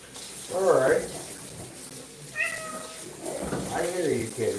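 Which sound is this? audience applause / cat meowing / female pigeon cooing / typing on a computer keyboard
cat meowing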